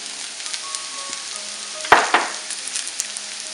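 Ivy gourd (giloda, tindora) sizzles steadily in a pan as spices are stirred in, a close continuous frying hiss with a couple of sharper scraping clatters from the utensil partway through.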